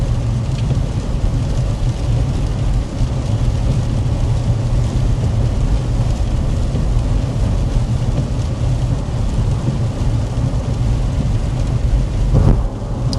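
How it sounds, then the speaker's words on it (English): Steady rain and road rumble inside a 2026 Chevy Trax cruising at 55 mph, a dense, even wash of noise lasting throughout, with a brief swell near the end. "yes, it is raining"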